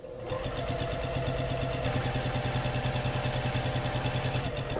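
A sewing machine stitches straight-line quilting in a steady fast mechanical whir with a rapid regular needle beat, close and continuous throughout without talk.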